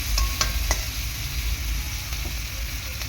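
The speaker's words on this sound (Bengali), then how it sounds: "কষিয়ে মশলাটাকে সুন্দর করে কষাবো" Spice masala for potato curry frying in a pan, a close steady sizzle with soft stirring scrapes and a few sharp clinks of the utensil against the pan.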